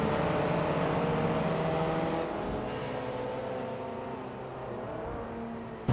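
Engine of a 2006 Vauxhall Astra VX racing in a video game, a steady droning hum with layered harmonic whine, fairly loud and continuous, easing slightly midway with a brief rise at the very end; no talk.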